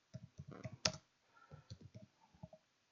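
Quick, light keystrokes on a computer keyboard, several soft clicks in short bursts with brief pauses, close and quiet.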